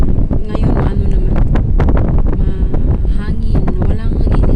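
Strong afternoon wind buffets the microphone with loud, continuous rumbling gusts, and someone talks throughout over it.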